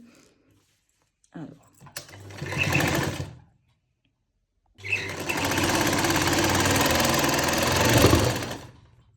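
A sewing machine stitches a sleeve strip on a kurti, whirring loudly and close in two steady runs, a shorter burst followed by a longer continuous stretch, with a quiet pause between.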